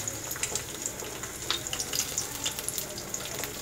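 An egg frying in hot oil in a pan, a soft, steady sizzle with small scattered crackles, close by and fairly quiet.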